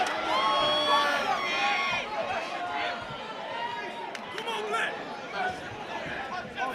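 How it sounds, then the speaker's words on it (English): Fight-night crowd at a Newcastle boxing event shouting and cheering for a fighter named Matt, a dense continuous roar of many voices with whoops and chatter, steady and loud throughout. "the crowd shouting for Matt"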